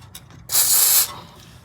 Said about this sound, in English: WD-40 on the other side, and down there, if you see on that bolt